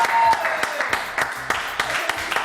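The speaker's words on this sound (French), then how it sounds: "je vous demande de l'applaudir." An audience claps for Miss JJDA on a French TV show set, a burst of scattered, uneven applause under a talking voice.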